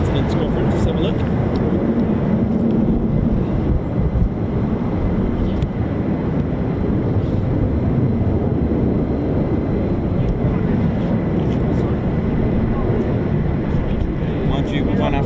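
Fighter jets, F-15s or F-35s, departing at RAF Lakenheath, a steady broad roar of engine noise that fills the whole stretch, loud and continuous with wind buffeting on the microphone.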